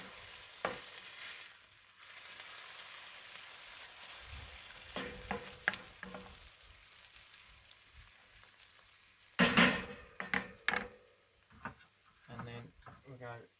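Canned tomatoes being stirred into a lamb jalfrezi frying on a kamado grill, with steady sizzling and bursts of scraping and stirring, louder near the end.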